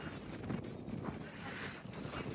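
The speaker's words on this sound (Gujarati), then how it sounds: "એટલો પવન છે" Strong wind buffets the microphone outdoors by open water, a constant rough roar with no break across the short stretch.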